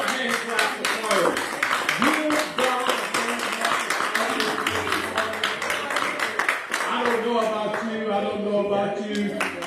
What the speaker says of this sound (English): Give the Lord a hand clap for the word.